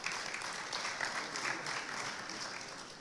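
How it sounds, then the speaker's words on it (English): Distant, fairly quiet applause from a large audience at the 2023 Nigeria Economic Summit, honoring the session chair with a steady, even patter of many hands throughout. "A round of applause for the session chair"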